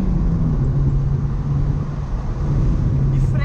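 A Toyota Etios sedan with a 1.5 engine drones steadily while accelerating, a low even rumble from inside the cabin with a brief higher sound near the end.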